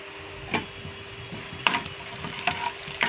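Mustard and other tempering seeds frying in a little hot oil for a Telugu bitter gourd (kakarakaya) pickle, giving a faint steady sizzle with a few sharp crackles and pops near the pan, with no talking.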